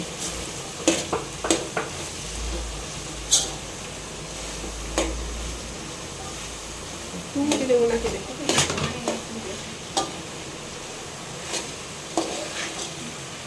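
Food is stirred and fried in a home kitchen pan while gram flour is sprinkled in, with a steady low sizzle, occasional scraping knocks of the spoon, and people talking over it.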